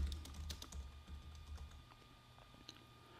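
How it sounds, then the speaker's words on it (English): A computer keyboard is typed on to send a message on a Raspberry Pi, with quiet, irregular key clicks close by over a soft background hum. "you're just going to start with the pound sign here and type the message"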